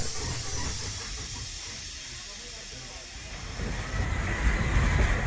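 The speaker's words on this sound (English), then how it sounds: "then the train glides into Guantanamo" Passenger train gliding into Guantanamo station in eastern Cuba on a line worked by EMD G8 and Russian locomotives: a steady hiss with low rolling rumble, swelling louder toward the end, with faint talk underneath.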